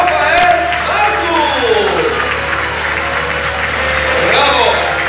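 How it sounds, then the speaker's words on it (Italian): A circus audience applauds, a broad patter of clapping from the crowd running under a loud announcer's voice that talks over it. "E facciamo l'ultimo applauso al donatore."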